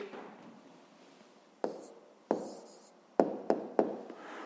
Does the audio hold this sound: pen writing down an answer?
yes